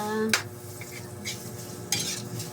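Mung beans sautéing in a pan, a low sizzle under a couple of sharp spatula scrapes against the metal, close and moderately loud.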